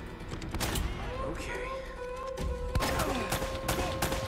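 AK rifle fire in Uncharted: Drake's Fortune, with scattered sharp shots and bursts over a busy game soundscape while a player talks over the action.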